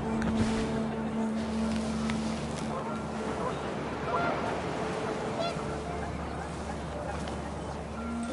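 Panicked geese honk amid wind and outdoor rumble, a scattered series of calls at moderate distance over continuous background noise, with voices faintly present.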